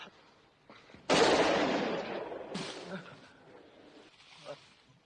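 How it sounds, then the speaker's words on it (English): A single sharp gunshot cracks from a 1958 western film, a loud burst with a long decaying echo, then a second fainter report, with quiet film sound around it. "I heard gunfire."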